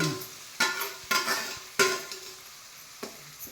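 Ground masala paste of spices frying in hot oil in a pan, with a steady low sizzle broken by several sharp scraping stirs at uneven intervals, close and fairly quiet.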